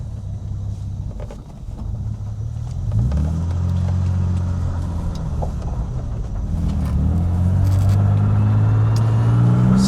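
A 1960 Jaguar XK150 3.8 S fixed-head coupe drives on the road, its engine rumbling and building as the car pulls away, accompanied by road and wind noise and no talk.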